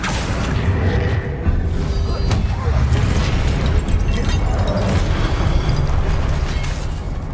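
A Confringo explosive spell goes off in Hogwarts Legacy: a dense, sustained blast roar with rumbling booms and crackle, loud and continuous throughout, with a voice shouting over it.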